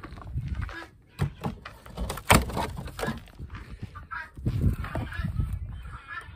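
Guinea fowl give harsh honking calls from a coop on a cold homestead morning, with a few sharp knocks and cracks from working a frozen door among the birds' loud, uneven cries.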